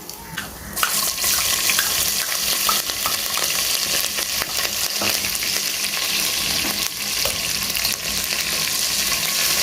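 Chillies frying in a pot, stirred continuously after the base has browned; a loud, dense sizzle with scraping sounds, heard close and without voices.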